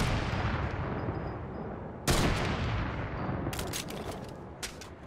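Gunfire rings out in a Fortnite match, one sharp loud burst followed by a run of rapid shots and a few scattered later cracks over a constant background hum of game audio.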